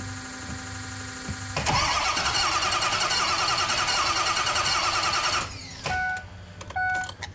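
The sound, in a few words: bus engine cranking but not starting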